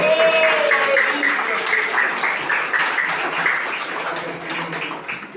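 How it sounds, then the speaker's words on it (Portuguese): A church congregation at a thanksgiving service claps steadily, the applause mixed with singing or a sustained voice and organ-like tones throughout. "Aplauda o Senhor Jesus"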